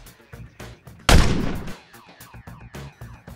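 A tank in the Armymals strategy game fires a loud, sharp booming shot with a decaying rumble, framed by softer rhythmic game sounds before and after.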